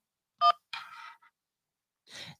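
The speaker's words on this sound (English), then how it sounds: "The phone is ringing." A short electronic telephone ring tone sounds in a radio studio, followed by a brief burst of chirpy electronic noise and another soft burst a moment later, fairly quiet and isolated.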